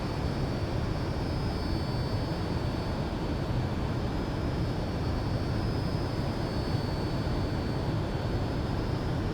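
The jet engine of a Fouga CM.170 Magister in Microsoft Flight Simulator roars steadily near full power with a constant dense rumble and a faint high whine, and no talking.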